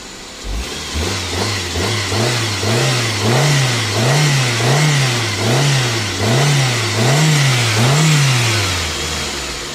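Used car with a fuel-injected engine that runs on both petrol and gas revs repeatedly, roughly ten even rises and falls in engine speed, loud and close with no talking.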